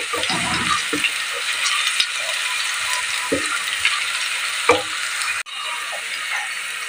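Garlic and ginger fry in a pan as squid, pechay and radish are prepared, giving a steady close sizzle broken by scraping stirs and a few clinks of the utensil.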